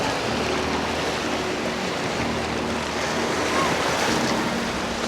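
Steady, strong wind roars across the microphone at Dolores Beach in Mabini, Davao de Oro, Philippines, blending with the broad wash of surf; no voices are heard.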